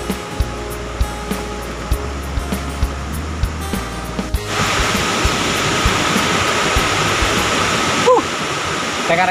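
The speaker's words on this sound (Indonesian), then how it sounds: "kita sudah sampai di depan air terjun Curug Cileat ya" Curug Cileat, a tall twin waterfall in Subang, West Java, running high with heavy flow, roars as a steady broadband rush that swells louder midway and stays continuous to the end.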